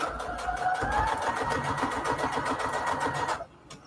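Sewing machine back-stitching fabric onto index cards, with rapid, even stitching close by that runs steadily and then stops abruptly near the end.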